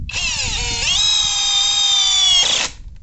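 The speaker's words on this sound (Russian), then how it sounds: "Я думаю, с саморезами справится гайковерт на ура." A Chinese-made ENZT 600 Nm cordless impact wrench driving screws whines loud and steady at close range, its pitch dipping under load and then rising before it winds down, with no talk.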